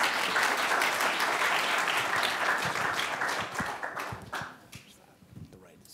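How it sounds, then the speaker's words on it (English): A business competition audience applauds as presenters come out, full steady clapping that thins into scattered individual claps and then fades near the end. "A round of applause."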